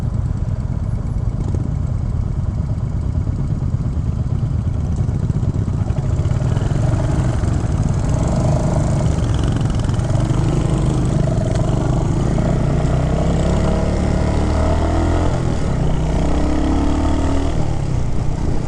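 A Royal Enfield Hunter 350 single-cylinder motorcycle on a test ride, its engine note a steady, loud, smooth thrum close to the rider, with wind noise and gentle shifts in pitch as the throttle eases on and off, no talk.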